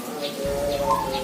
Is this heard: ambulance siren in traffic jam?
no